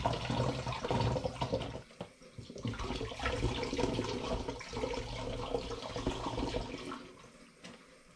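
Apple juice pours into a plastic water bottle with a steady gurgling splash, briefly interrupted, then continuing and tapering toward the end.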